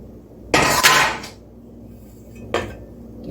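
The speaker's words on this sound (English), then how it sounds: "we're going to stir in the coconut now, in with the dry ingredients" Toasted coconut being stirred into dry muffin ingredients in a bowl, heard as a scraping, clattering burst of utensil against the bowl followed later by a shorter knock, fairly close with quiet background between.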